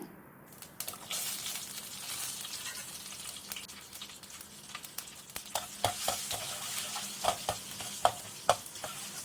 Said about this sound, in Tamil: இது எல்லாத்தையும் போட்டு நல்லா வதக்கி விடுங்க